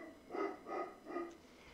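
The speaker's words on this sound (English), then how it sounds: "There's a dog barking." A neighbouring dog barks three times at an even pace, faint and distant, each bark muffled as if heard from outside through a wall, with quiet room tone between.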